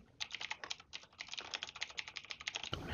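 Rapid, steady typing on a computer keyboard as an address is entered, dense close-up keystroke clicks running continuously for a few seconds without any talking.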